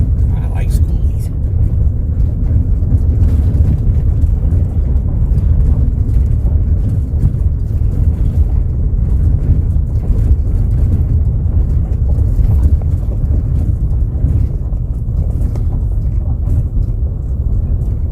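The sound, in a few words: wind blowing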